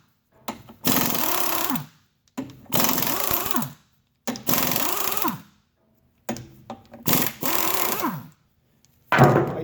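A power tool with a 19mm socket zips lug nuts off a 2010 Chevy Malibu front wheel in five loud, near bursts of about a second each, every burst whining up and down, with short silent gaps between.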